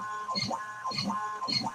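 A CNC machine cutting gives off a rhythmic whine that rises and falls in three regular sweeps, with a steady tonal hum beneath the motor strokes and no talking.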